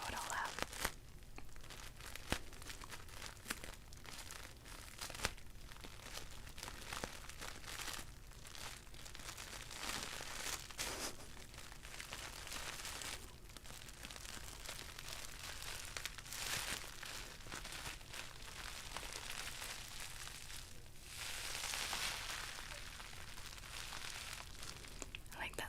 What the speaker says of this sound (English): I always liked to just play with the bubble wrap or the packing peanuts, the paper, just because I like all the little sounds